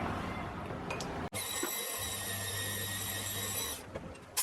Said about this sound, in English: drilling and tapping all the holes that need to be in the base